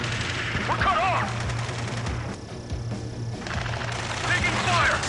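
Rapid gunfire in an Ace Combat 7 mission plays under a steady low drone, with bursts of shooting and a voice speaking over the combat noise.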